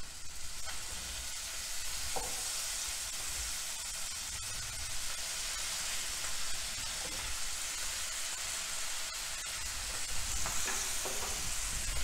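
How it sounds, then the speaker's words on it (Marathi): Chopped onions sautéing in a pan over lowered heat, a constant close sizzle with occasional spatula stirs and scrapes, no talking. "आता त्यामध्ये आपण जे चिरून ठेवलेले कांदे आहेत ते परतायचे."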